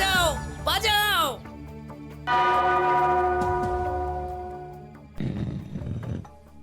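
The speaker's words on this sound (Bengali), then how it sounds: "ওই ঘন্টাটা বাজাও, বাজাও।" A bell rings with a long, resonant tone that slowly fades, struck again near the end, while voices speak excitedly over it.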